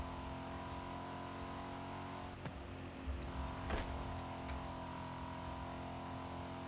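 A car engine in a racing video game hums steadily at moderate revs with tonal drone and a couple of brief transient bumps, fairly quiet and without talk.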